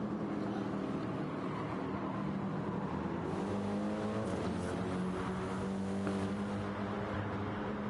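Race cars roar past in a racing video game, a dense, continuous engine drone with several cars passing in close succession, their pitch rising and falling, steady and loud throughout.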